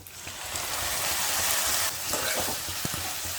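Chopped tomato goes into hot oil for egg pulusu and sizzles loudly and steadily close up. The frying hiss swells, then eases slightly, with a few faint spoon scrapes toward the end.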